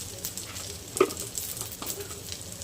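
Ginger, garlic and a few cashews hit a hot oiled pan and sizzle steadily up close, with a small sharp clink from the spoon partway through and no voices.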